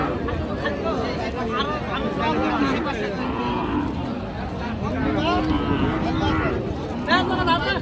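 A dry dairy cow lows at a rainy-day rural cattle market in Raniganj, mooing under steady talk and crowd chatter from buyers and sellers.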